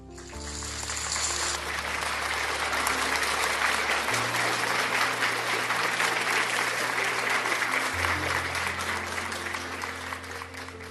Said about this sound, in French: Let us applaud for the word of God.